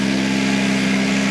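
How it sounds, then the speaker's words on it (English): A Tennant 6600 sweeper engine runs at a steady idle, a constant mid-pitched hum with a smooth, even drone and no talking over it. "Engine running smooth."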